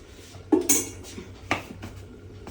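A few metallic clinks and clanks of a lid placed on a pot of prawn curry, close and fairly soft, spaced irregularly.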